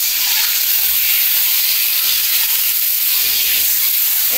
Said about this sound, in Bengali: ডিমটাকে হালকা এই তেলের মধ্যে ভেজে নিচ্ছি